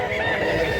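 Chickens at a crowded rural livestock market in Mantalungon, Cebu: a dense, continuous din of clucking and crowing fowl mixed with crowd noise, loud and close throughout.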